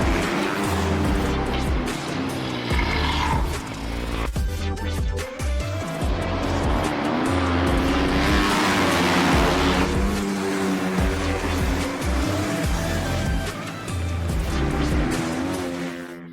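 Flat track motorcycles ride on a dirt track, their engines loud and close, rising and falling as they rev and pass, with brief gaps and shifts in pitch.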